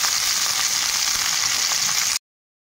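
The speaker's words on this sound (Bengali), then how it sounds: "সবজিগুলো একটু ভাজা ভাজা করে নেব" Vegetables seasoned with salt fry and are stirred in a pan, giving a loud, continuous close sizzle that cuts off abruptly.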